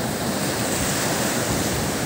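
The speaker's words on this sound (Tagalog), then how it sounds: "Ayan po ang tabi ng dagat" Loud, steady wash of ocean waves breaking on the seashore at Real, Quezon Province, continuous surf roar with some wind buffeting the microphone and no voices.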